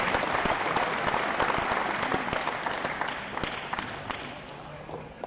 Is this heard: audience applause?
yes